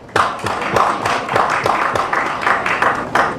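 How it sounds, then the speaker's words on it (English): Conference audience at a UK-Uganda trade and investment convention applauding, a steady, dense patter of many hands clapping close by for several seconds with no talk over it. "A round of applause for Uganda for that."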